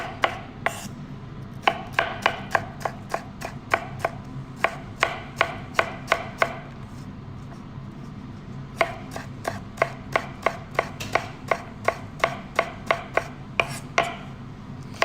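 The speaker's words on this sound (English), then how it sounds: "As I'm just cutting down straight like this over here. Nice thin slices." A knife cuts straight down through vegetables into thin slices on a cutting board, each stroke a sharp close thump in steady even rhythm, with a pause in the middle and no talking.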